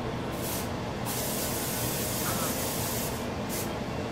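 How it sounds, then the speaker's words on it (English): Coconut oil cooking spray hisses from a can onto a pot in a few bursts, a steady close-up spray sound with short pauses between bursts. "So now I'm gonna spray my coconut spray on the pot."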